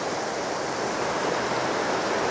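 A waterfall along the Appalachian Trail in Maine, heard as a steady, full rush of falling water that stays loud and even throughout, with no voices over it.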